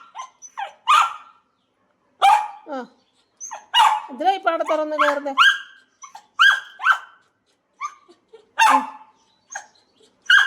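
A pet dog barks in short bursts and lets out a drawn-out whining howl between them, loud and close in a quiet indoor space, while someone talks to it.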